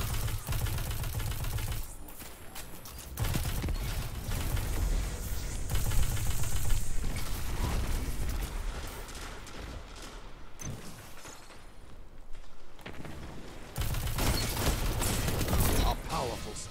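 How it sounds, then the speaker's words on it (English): Long-range shotgun fire during an Iron Banner match in Destiny, heavy blasts and mechanical clatter mixed with game effects and an announcer voice, dense and fairly loud across the whole stretch. "That's his long range shotgun."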